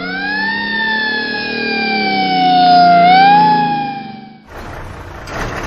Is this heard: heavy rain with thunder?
no